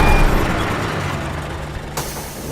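A car slows and comes to a stop with a hissing brake release and broad rumbling road noise fading out, followed by a sharp click near the end; no talking.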